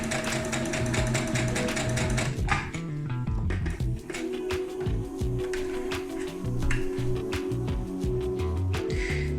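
Sewing machine running a short test seam, a steady mechanical whir with fast repeating clicks and needle taps, close and continuous and heard on its own.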